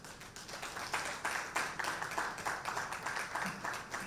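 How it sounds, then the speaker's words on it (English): An audience at the NIGGSA 2025 event applauds after a German deputy consul's address, giving dense, steady clapping with a faintly pulsing rhythm, fairly close and without voices. "Round of applause for Mr. Sandalas, Deputy Consul of the Consulate of Germany, and his entire team"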